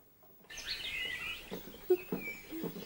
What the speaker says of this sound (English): it's birds singing in the park